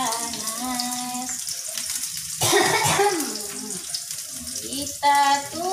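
Food hits hot oil in a home kitchen pan for a morning meal, bursting into a loud hissing sizzle twice, while someone talks over the cooking.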